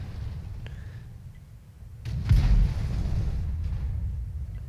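A single heavy tank cannon shot in the World of Tanks video game, a deep low boom over a steady rumbling engine drone, with no speech.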